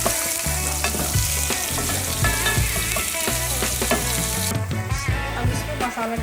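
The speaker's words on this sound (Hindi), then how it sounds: "अब इसमें ये प्याज डाल देंगे, कटा हुआ प्याज।" Chopped onions fry in a hot pan, a dense, steady sizzle with occasional stirring clatter, loud and close with no talking.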